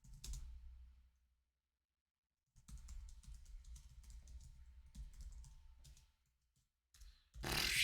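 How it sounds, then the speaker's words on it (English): Bursts of typing on a computer keyboard during a coding session, quiet clicking in two runs separated by a silent pause, with a louder sound at the very end. "I'm just typing something."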